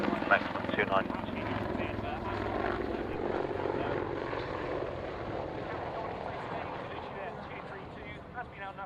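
A military helicopter at the Fairford airshow, its rotor thrum and turbine whine running steadily under a commentator's voice.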